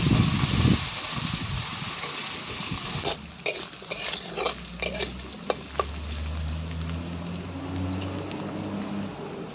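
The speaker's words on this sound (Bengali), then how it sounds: "আলুটা হালকা ফ্রাই হয়ে গেলে ওর মধ্যে পেঁয়াজটা দিয়ে দিচ্ছি" Potatoes fry in oil with cumin and black cumin seeds, giving a continuous sizzle broken by sharp clicks and scrapes of a utensil against the pan, heard close up and without talk.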